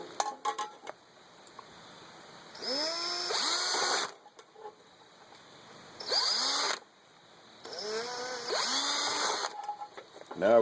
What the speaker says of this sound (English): So we'll drill those 2 pilot holes.